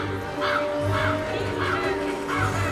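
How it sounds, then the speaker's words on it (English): Projected crow sound effects at the Disney Oogie Boogie Bash Halloween event caw repeatedly in a spaced rhythm over a dense, ambient background of music and crowd noise at the park. "The projected crows."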